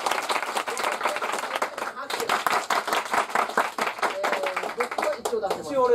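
Studio audience clapping to vote for the better side of an improv comedy bout, a dense run of handclaps with a brief gap near the two-second mark before the clapping resumes, while a voice talks over it.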